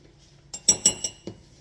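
A spoon stirring ginger beer ingredients in a glass jar, a quiet pause followed by four or five quick clinks of metal against glass, close and fairly soft.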